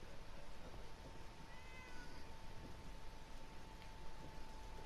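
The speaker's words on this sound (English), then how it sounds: "Got a lot of cats as well up here." Cats meowing in Fallout 4 at Sanctuary Hills, a few faint drawn-out mews over a steady hiss of rain and background noise, distant and quiet.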